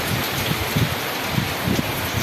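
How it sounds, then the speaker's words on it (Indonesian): Heavy tropical rain pours steadily onto a roof and surroundings in a dense, even hiss with soft low thuds, loud and unbroken throughout with no voices. "Deras hujannya kawan"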